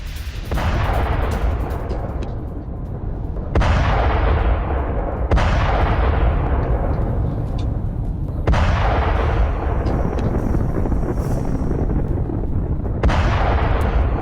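Heavy explosions and artillery-style gunfire from a Russian attack in Ukraine, with repeated loud booms at irregular intervals that keep rumbling under a constant roar of battle, with no talk.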